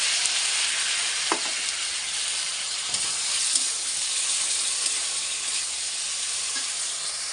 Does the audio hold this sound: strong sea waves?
no